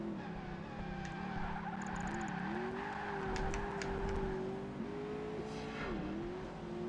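Corvette Stingray in Project Gotham Racing 2, its engine droning steadily and dipping in pitch while the tyres squeal and skid through repeated slides, no voices over it.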